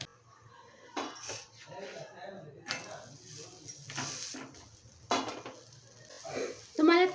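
A thin jowar flour thepla with methi is roasted on a pan, with oil, ghee or butter around it. Soft sizzling is broken by intermittent utensil clinks and scrapes while someone talks throughout.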